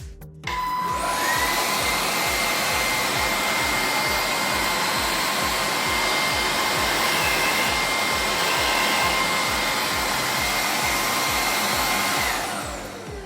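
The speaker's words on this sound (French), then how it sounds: "lorsqu'on met en marche l'appareil, ça se met à tourner très rapidement. Je vais le mettre en route" A 2020 Bissell Icon 21V cordless stick vacuum spins up quickly to a loud, steady motor whine and airflow roar. It runs alone for about twelve seconds, then begins to wind down.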